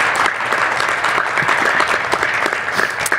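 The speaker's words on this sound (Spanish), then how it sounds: "A ver, un aplauso. Es para el Señor." A church congregation claps together in a strong, steady burst of applause, many hands close by with a few louder individual claps standing out.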